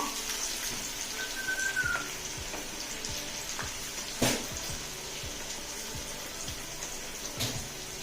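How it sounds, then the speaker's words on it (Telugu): Thinly sliced bitter gourd fries in hot oil over a low flame, making a continuous crackling sizzle with scattered pops and light clicks, and a brief thin whistle near the start. "అన్నీ కూడా ఇదే మాదిరిగా వేగనిద్దాము"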